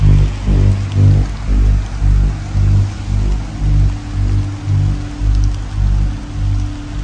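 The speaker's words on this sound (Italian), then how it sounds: "qua raga sta cominciando a piovere" Heavy rain pours outdoors in a cemetery as a dense, continuous wash of drops with low rumbling buffeting, loud and close throughout.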